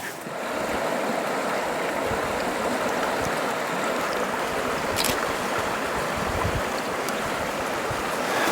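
A river flowing during a summer bear-hunting trek, a steady broadband rush of water that stays constant and fairly loud throughout, with no voices over it.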